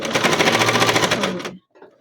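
A sewing machine stitching a children's backpack, running in a fast, steady, even rhythm up close for about a second and a half before stopping abruptly.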